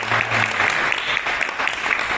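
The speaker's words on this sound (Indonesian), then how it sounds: "Biar tepuk tangan ya nih." Audience applause at a church youth gathering (teens and youth service), steady dense clapping throughout, fairly close and loud, with a brief low hum at the start.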